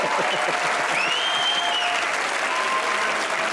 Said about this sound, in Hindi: एक बार तालियां हो जाए मोहम्मद यूसुफ के।